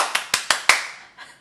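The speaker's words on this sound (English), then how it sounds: "nearly a round of applause for my husband" A handful of single, sharp hand claps in a home kitchen concert, four or five distinct smacks spaced unevenly and close to the listener, fading into a faint softer patter at the end.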